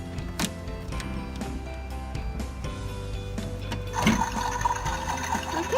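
A toy washing machine runs with water, giving a steady mechanical whir and sloshing hum with a few clicks, getting slightly louder and busier near the end.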